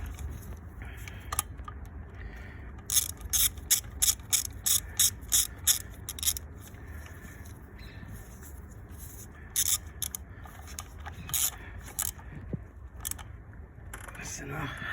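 Ratchet wrench clicking in short bursts while tightening bolts during a service on a Vauxhall Astra 1.4 turbo, close and moderately loud over a low background hum.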